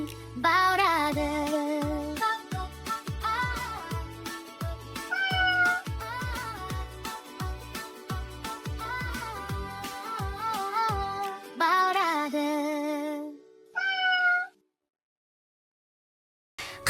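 A yellow cat in a Kazakh children's cartoon song gives a string of melodic, tuneful meows set against bouncy music, ending in a final short burst before silence.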